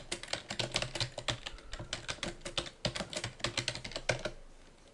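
A compile command is typed on a computer keyboard in a terminal: rapid, irregular clicks of close keystrokes in quick bursts, with brief pauses and a final heavier key press, no talking.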